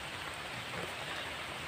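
Heavy rain pours steadily, a dense, even hiss of drops drumming on surfaces with no voices.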